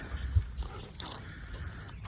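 Dog whimpering and yipping on a lake shore, a few short, soft whines with low snuffling and rustle beneath, fairly close and brief.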